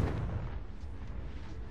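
A Confringo fire spell blasts in the Hogwarts Legacy video game, a low, rumbling burst with a muffled boom that sustains briefly and fades.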